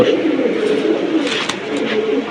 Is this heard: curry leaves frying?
no